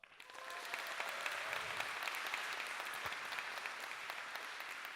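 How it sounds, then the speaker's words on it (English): A keynote audience at a games-industry talk breaks into applause, a steady dense wash of many hands clapping that swells quickly and holds without voices over it. "let's hear a big applause"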